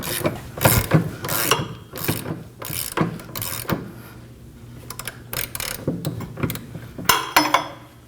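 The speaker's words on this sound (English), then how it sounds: "we're gonna go ahead and grab our 19mm socket" Ratchet clicking as a 19mm socket turns a bolt on the rear wheel hub of a 2011-2016 Kia Optima, in several short bursts of pawl clicks close by.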